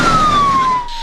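An ambulance siren wails close and loud, a single steady falling tone across the brief moment amid road noise in Kenya.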